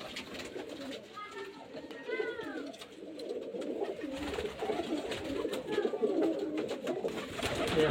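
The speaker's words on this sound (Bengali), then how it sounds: "পায়রাগুলো সব মুর্শিদাবাদের গিরিবাজ লাইনের পায়রা আছে, খুব ভালো ভালো পায়রা।" Giribaz-line pigeons from Murshidabad coo in low, rolling murmurs that run throughout, with a few brief bird calls on top and loose background chatter from nearby people.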